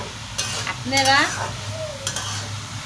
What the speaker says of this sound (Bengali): এখন আমি আর একটু ভাজা ভাজা করবো